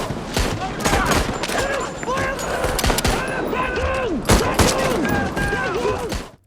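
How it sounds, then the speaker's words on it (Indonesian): Film gunfight between FBI agents and robbers, dense fusillades of gunfire with sharp repeated shots and ricochet-like whines, continuous and loud throughout under a busy soundtrack. "FBI pun datang hingga akhirnya aksi baku tembak pun terjadi"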